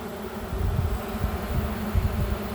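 Honey bees swarm around a small nuc hive, a dense steady buzz close up with fluctuating low wingbeat hum and no voices.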